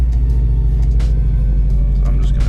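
A 2005 Subaru WRX STI rolling a couple of feet, heard as a steady low engine rumble close by, with faint higher noises over it.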